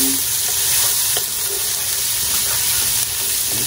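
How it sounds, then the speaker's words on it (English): Onions fry in a pan, giving a loud, close, continuous sizzle with soft scraping stir strokes scattered through it and no talking. "I'm going to stir those beautiful onions"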